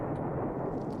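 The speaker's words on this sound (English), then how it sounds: "this is gonna crash into the ground with the accompanying explosion first" A rumbling crash and explosion from a meteor hitting the ground in the video game Unsighted, a dense low roar that holds steady through the moment.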